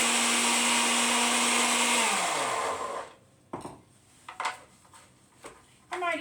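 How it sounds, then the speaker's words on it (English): A kitchen blender whirs loudly and steadily for about three seconds, its motor winding down as it is switched off, followed by a few faint clicks and knocks of utensils. "I'm not going to talk while I'm using the blender"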